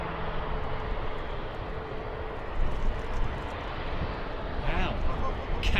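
Capital Airlines Airbus A330 airliner arriving at London Heathrow in the evening, a steady broadband jet roar swelling slightly as it passes, with people chatting over it.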